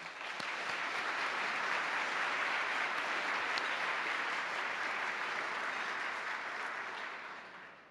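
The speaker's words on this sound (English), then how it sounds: "Please join me in a warm round of applause for all of them." Warm audience applause for sponsors at a civic club luncheon, a full steady wash of clapping that swells and then tapers off at the end.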